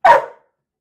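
A single short dog bark, close and loud, with a sharp attack that fades within half a second, heard alone.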